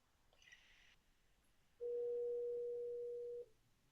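One long, steady electronic phone tone sounds during a call attempt, lasting about a second and a half, clear and close against a quiet room after a faint brief chirp.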